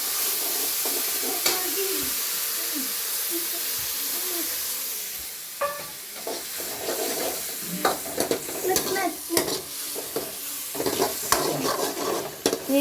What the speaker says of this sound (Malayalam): ഇത് അരച്ച കൂട്ടി എണ്ണയിലേക്ക് ഒഴിക്കും.